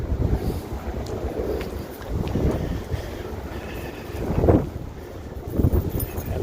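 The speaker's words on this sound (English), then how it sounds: "Yes, it's a windy day. We'll be all right on the wind noise" Gusty wind buffets the microphone with a low, uneven rumble that swells and fades, loudest in a few bursts.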